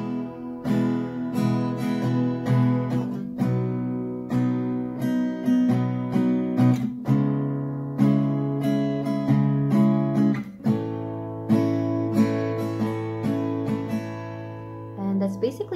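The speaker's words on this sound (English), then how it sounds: "Basically the strumming pattern for the whole song." Acoustic guitar strummed in a steady down-and-up pattern for a song, clear and close, with bright chords ringing through short repeated bursts and no voices.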